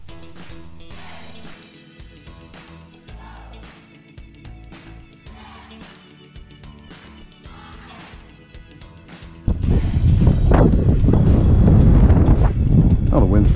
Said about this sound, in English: Well, the wind's picked up a little bit more than they said.